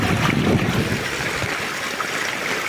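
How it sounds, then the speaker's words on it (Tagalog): Strong floodwater during a typhoon rushes and churns in a steady, loud broadband roar with no pauses. "Lakas ng tubig."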